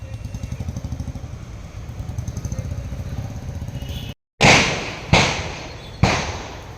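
Firecrackers go off at a temple festival during Parkkadi Pooram, three sharp loud bangs about a second apart, each fading into a rumbling echo, after an idling engine drone fills the first few seconds.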